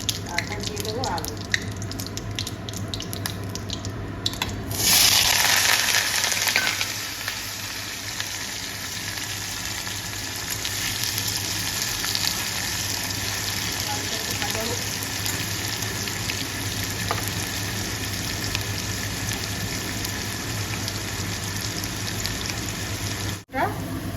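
Chopped banana flower and potatoes fry in hot oil in a pan, a steady sizzle that swells briefly near the five-second mark, then settles into a continuous crackle through the rest.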